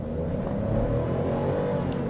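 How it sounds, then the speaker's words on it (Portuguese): A Chevrolet Onix Plus compact sedan pulls away from a standstill in a 0 to 100 km/h test with the air conditioning off, a loud, steady engine drone with a rising tone heard from inside the cabin. "Teste de aceleração de 0 a 100, começando aqui pelo Chevrolet Onix."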